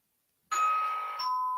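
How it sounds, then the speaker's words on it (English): An electronic doorbell chimes twice in succession after silence, a sustained bright tone followed by a second ring, clear and close with no voices. "doorbell's ringing, just not going away."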